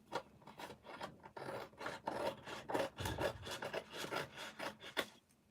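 A paper cutter trims paper for scrapbooking, giving a rapid series of close, rhythmic rasping strokes over about five seconds with no voices.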